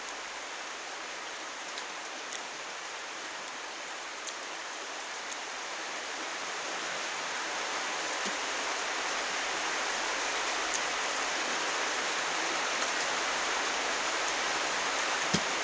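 Steady rain falls, making a continuous broadband hiss with a few faint separate drips on top. It grows slightly louder toward the end.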